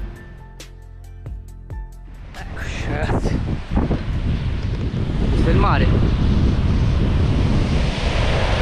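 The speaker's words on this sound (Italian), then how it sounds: "Un bel vento di scirocco e acqua sporchina" Sirocco wind buffets the microphone on a beach, its roar swelling into a loud, steady rush mixed with breaking surf, after a quieter opening with some clicking and tapping.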